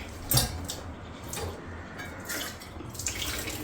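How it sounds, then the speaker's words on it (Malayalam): Dishes are washed one after another under a running tap, with water splashing and occasional clinks of pots and utensils against each other, close and moderately quiet. "സോ പാത്രങ്ങൾ അങ്ങോട്ട് ഓരോന്നോരോന്നായിട്ട് നമുക്ക് കഴുകാം."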